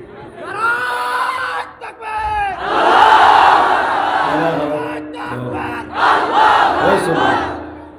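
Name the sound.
crowd chanting takbir at a religious gathering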